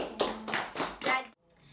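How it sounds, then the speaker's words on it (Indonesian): A group of students in an Indonesian classroom claps in unison, with three or four strong synchronized rhythmic bursts, near and moderately loud, then stopping abruptly into quiet. "Tepuk tangan dulu buat Ani."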